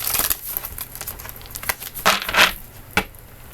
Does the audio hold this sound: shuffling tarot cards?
yes